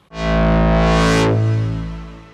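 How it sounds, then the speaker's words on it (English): A Korg Minilogue XD synth tone runs through the Corrosion distortion plugin, giving a loud, buzzy, harmonically rich sustained note. A bright filter sweep rises over about a second, then the note settles and slowly fades. "It's a distortion plugin."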